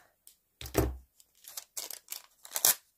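Scissors cut a sheet of craft foam resting on baking paper, giving a few short, crisp snips and crinkles, close and quiet, with pauses between them.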